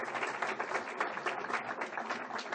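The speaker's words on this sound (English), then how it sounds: "How about a nice round of applause for our district administrators?" An audience at a school district superintendent's breakfast gives a steady, dense round of applause, many hands clapping at once in a room, moderately loud and unbroken.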